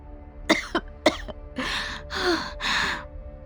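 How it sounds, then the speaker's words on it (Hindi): A few sharp, loud coughs in quick succession, followed by three longer, rough, breathy hacking coughs, close up with no talking. "जोर से खांसी आ गई।"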